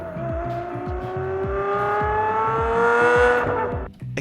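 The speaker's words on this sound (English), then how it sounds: "as when the cars move further away, the reverb goes with it" A race car sound effect made to seem distant, its engine note rising and sliding in a smooth pass through heavy reverb, with a rapid pulsing rattle underneath before it drops away.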